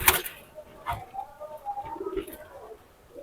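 Pakistani highflyer pigeons in a loft coo softly in short, murmuring calls, fairly close and quiet, with a faint voice now and then in the background.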